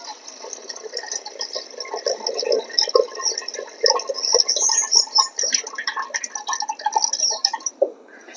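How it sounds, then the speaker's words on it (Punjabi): Rinse water drains off washed rice in a kitchen, a continuous close, gurgling pour with splashy bursts that runs for several seconds before tapering off. "ਇਹ ਵੀ ਪਾਣੀ ਕੱਢ ਦੇਾਂਗੇ ਹੁਣ"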